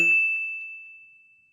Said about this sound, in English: until our bell rings